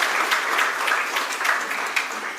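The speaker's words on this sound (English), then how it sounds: "please give a round of applause to Mr." Audience applause at an annual award function in Pune, a steady wash of clapping from a crowd throughout, fairly loud and even.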